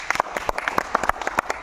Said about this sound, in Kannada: ಚಪ್ಪಾಳೆ.